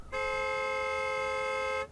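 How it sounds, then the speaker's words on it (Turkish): A car horn blares in one long, steady, loud toot early in the morning, held unbroken for nearly two seconds before cutting off. "Sabahın bu saatinde araba kornasını kim çalıyor?"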